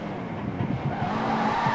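Engine of a car in the mobile game Car Simulator 2 shifting from first gear into second, a faint simulated motor drone with pitch rises and drops as the gears change.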